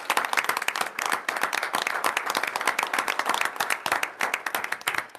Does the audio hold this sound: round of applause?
yes